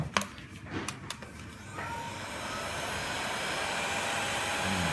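A hot air blower heats the sleeve of an iPhone charging cable during a repair, with a few clicks and taps before the blower starts up into a steady, loud, close whooshing roar that runs to the end.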